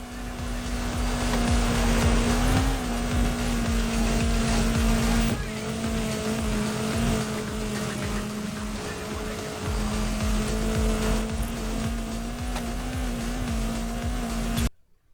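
A Can-Am Maverick UTV drives in Forza Horizon 5, its engine a continuous droning hum with small pitch shifts and a rushing background. The sound holds steady for about fifteen seconds and stops abruptly, with no voices.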